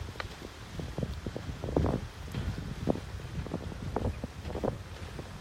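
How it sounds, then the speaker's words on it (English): Gusty wind buffeting a microphone outdoors, soft uneven rumbling and fluttering bursts that rise and fall throughout, fairly quiet with no talking. "It's quite windy here."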